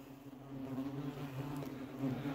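Paper wasps (Polistes) at a small nest droning in a steady, close, low buzz that continues throughout at moderate volume, with no voices.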